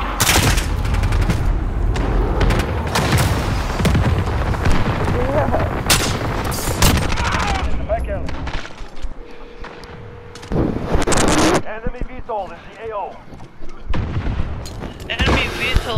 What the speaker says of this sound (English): enemy white phosphorus in.